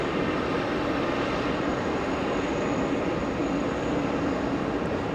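Two Boeing 777 airliners arriving at JFK airport, heard as a steady, loud broadband jet roar that holds constant throughout with no voices.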